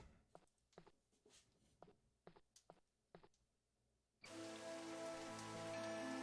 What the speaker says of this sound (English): Oh, look at that rain. Some nice rain.